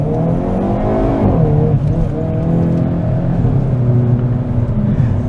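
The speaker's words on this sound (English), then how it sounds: "Now I stopped, put it in gear. I'm in the sport mode or in the performance mode right now. All I have to do is press the accelerator." A 2022 Hyundai Kona N, a 286 hp subcompact performance SUV in performance mode, accelerates hard from a stop, its engine droning loudly and steadily with rising pitch, heard from inside the cabin.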